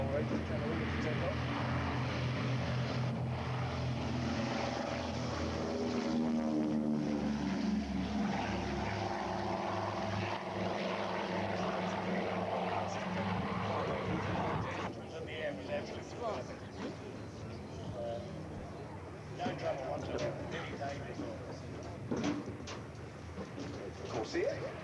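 A warbird propeller aircraft takes off at an air show, its loud droning engine rising and throbbing with a shifting pitch for a long stretch, then dropping away as voices speak nearby.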